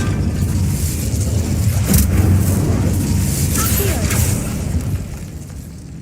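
Incendio fire spell cast in Hogwarts Legacy, a whooshing, booming burst of flame over a rumbling combat background, fairly loud then tapering off, with shouted spell names over it.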